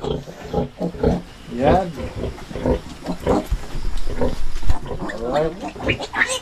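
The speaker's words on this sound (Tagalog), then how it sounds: "Ang ating mga alagang biik." Five-day-old newborn piglets let out short, high squeals close by, mixed with snorting and grunting, while people talk over them almost throughout.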